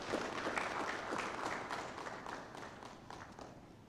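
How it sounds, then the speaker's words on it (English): Audience applause for the Honorable Minister at a formal Zambian electoral reforms report submission, a steady crowd of hands clapping at moderate distance that slowly thins and softens over about four seconds. "I think she deserves a much better round of applause."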